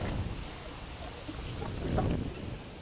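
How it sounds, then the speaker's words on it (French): Wind gusts across an outdoor garden, a steady roaring rush of buffeting noise against the microphone that swells slightly toward the end, with no voices. "il y a du vent, je suis obligé de crier"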